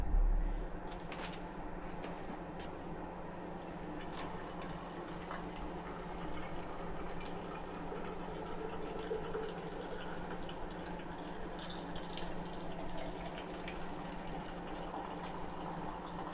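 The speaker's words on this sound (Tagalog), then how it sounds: "Kuha din ako ng tubig." Water running steadily into a container, a continuous faint hiss and trickle in a home kitchen, with soft clinks and rustles near the start.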